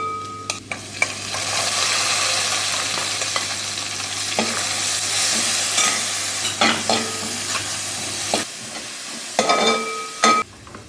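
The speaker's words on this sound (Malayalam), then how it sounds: "ഇനി നമുക്ക് ആ ഉള്ളി ചതച്ച് വെച്ചിരിക്കുന്നത് ഇട്ട് കൊടുക്കാം." Crushed onion frying in a pan with garlic and ginger, with a steady close sizzle and intermittent stirring scrapes throughout, the sizzle continuing without any talk.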